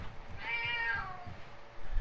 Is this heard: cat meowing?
yes